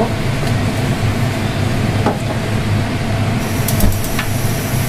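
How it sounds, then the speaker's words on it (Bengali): A kitchen chimney exhaust hood runs steadily, a loud broadband whoosh and hum filling the whole stretch, with a few faint clinks over it. "চিমনিটা বন্ধ করে দিন, নাহলে কিছুই শোনা যাবে না।"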